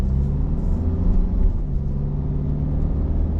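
Mercedes X250D pickup with a 2.3 litre twin-turbo diesel engine while driving: a steady, low cabin rumble of engine and road noise holds an even level throughout, with no talk.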